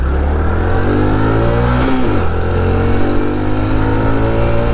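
A Honda Trail 125 Hunter Cub motorcycle pulls out onto a 50 mph backroad, its engine loud and close as it accelerates steadily, with a brief dip for a gear change partway through.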